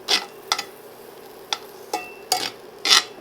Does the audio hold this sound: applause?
no